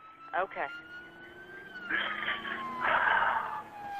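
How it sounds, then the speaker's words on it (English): Police car sirens wail as they approach during an emergency call, their rising and falling tones growing louder toward the end. A person speaks briefly over them. "I hear some sirens now."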